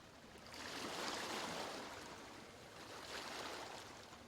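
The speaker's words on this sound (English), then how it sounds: "The air around you is filled with the sound of the coast. Soft waves, ebbing and flowing." Soft coastal waves by mangroves, a gentle broadband wash that swells, eases off and swells again, close and steady with no talking.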